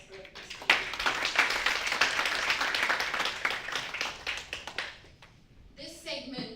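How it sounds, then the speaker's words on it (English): An audience at a research symposium in Dubai bursts into sustained applause, a dense wash of clapping that swells for several seconds, then thins out and gives way to voices near the end. "A big round of applause for these people."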